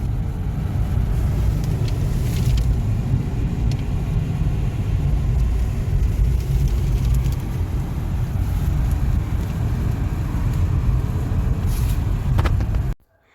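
A new car rolls slowly up to a home, its engine rumble and road noise steady and close with heavy wind buffeting throughout, then cutting off abruptly at the end.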